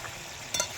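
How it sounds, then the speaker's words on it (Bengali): Fried minced meat sizzles faintly in a pan as it is stirred, with a short scraping burst near the end. "ভাজা কিমাগুলো এবার এইভাবে একটু কষিয়ে নেব আমি"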